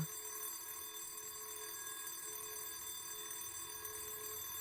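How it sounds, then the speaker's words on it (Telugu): An alarm rings steadily and faintly in an indoor scene, a thin continuous electronic ringing tone sustained throughout with no voices over it. "అలారం ఇంకా మోగలేదనుకున్నాను, మోగింది."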